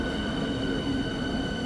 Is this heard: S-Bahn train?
yes